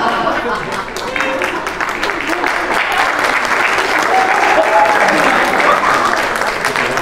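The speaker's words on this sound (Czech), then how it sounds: "mali zaznieť dva potlesky" Dense, sustained applause from an audience at a seminar anniversary celebration fills the room at full volume, steady throughout without a break.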